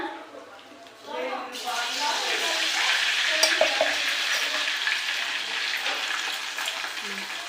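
Garlic and cumin tempering seeds drop into hot oil for a gongura chutney, giving a sudden loud, steady sizzle that holds close and bright after an initial quieter stretch with some voice.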